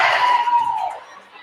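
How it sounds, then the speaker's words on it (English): A girls' volleyball team bench cheers on teammates during a senior match, a loud burst of mixed young voices and shouts that fades over a second and a half. "Lakers bench as loud as they've been all day right now. Trying to cheer on their teammates."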